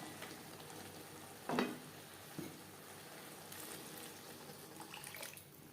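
Egg curry with nearly boiled potatoes on a high flame just after water goes in, a faint, low sizzle and simmer with a couple of soft stirring clunks and brief splashing sounds, no talking.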